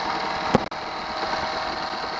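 A small 8 horsepower Honda outboard motor runs steadily at a constant idle, with a brief knock partway through.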